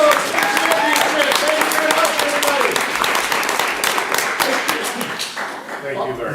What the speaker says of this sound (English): let me grab a applause for the Grove Championship